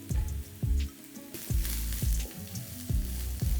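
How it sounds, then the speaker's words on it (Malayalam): Ginger garlic paste, chopped carrot and cabbage frying in hot sunflower oil, a steady close sizzle with repeated low thumps of stirring at a regular pace, no talk. "ഓയിൽ ചൂടായി വന്നിട്ടുണ്ട് നമുക്കിതിൽ ജിഞ്ചർ ഗാർലിക് പേസ്റ്റ് ക്രഷ് ചെയ്ത് ചെറുതായിട്ട് അരിഞ്ഞ ക്യാരറ്റ് കുറച്ച് ക്യാബേജ്"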